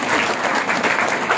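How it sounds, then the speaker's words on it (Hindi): A small group claps together at a house program gathering in Salarpur Khadar, a close, lively burst of uneven hand claps with busy household voices murmuring underneath. "ताली बजाओ सब"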